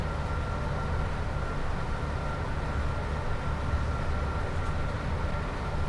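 Class 87 electric locomotive running on the West Coast Main Line between Preston and Carlisle in Train Sim World 5, a steady broadband rumble and hiss of motion continuing evenly throughout with no pauses.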